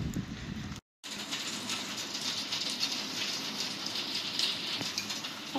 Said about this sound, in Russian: Вот это он льет, как из ведра.